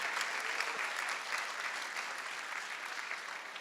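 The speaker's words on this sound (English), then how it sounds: "Round of applause." Steady applause from a dinner crowd, dense and continuous clapping throughout with no voices standing out.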